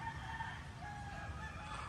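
A stag rooster at a game farm crows loudly and close, one sustained call filling the moment with no other voices.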